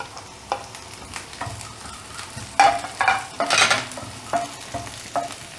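Green chilies tossed into a pan and stirred as they fry, giving a steady sizzle broken by several louder scraping stirs, close and fairly loud, with no talking.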